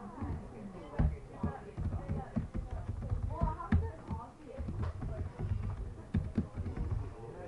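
Keyboard typing while entering column headers into an Excel spreadsheet, a close, steady run of quick irregular key taps mixed with louder clacks, continuing throughout.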